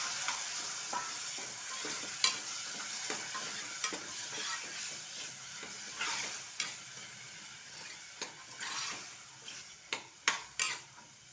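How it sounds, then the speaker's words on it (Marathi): Peas stirred and fried in onion masala in a pan, giving a soft, continuous sizzle close by, with scattered sharp taps and scrapes of a spoon against the pan. "मसाला छान परतून घ्यायचा आहे आता हे वाटाणे त्यात घालायचं"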